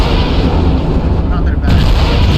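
Incoming missile explosions in MechWarrior Online make a dense, loud barrage of booming impacts with continuous rumble, blending into a steady roar throughout, with speech partly underneath.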